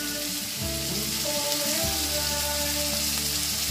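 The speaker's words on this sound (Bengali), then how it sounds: "মিনিট খানেক লো হিটে ক্যাপসিকাম আর পেঁয়াজটাকে ভেজে নিতে হবে।" Chopped onion and capsicum frying over low heat in refined oil with salt, a continuous close, even sizzle with faint stirring, no voices.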